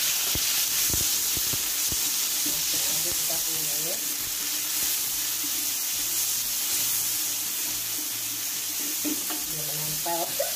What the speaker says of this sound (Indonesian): Boleh langsung kita masukkan daging sapinya. Masuk aja kita tumis.